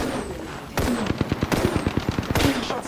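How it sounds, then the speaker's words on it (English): In Apex Legends, bursts of automatic gunfire aimed at the player crack out in three rapid rattling volleys, each a quick string of sharp close shots. "Shots fired at me."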